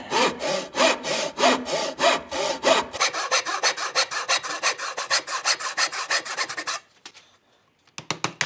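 A hand saw cuts angled wooden joints for the hounds of a stagecoach in a coach shop, loud rhythmic back-and-forth strokes, heavy and slow at first then faster and lighter, stopping briefly before a few final strokes.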